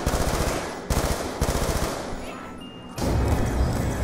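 Assault rifle fire in Black Ops 2 Zombies, loud and close: rapid automatic bursts broken by short pauses as the weapons are swapped, ending in a heavier sustained burst, with no talk over it.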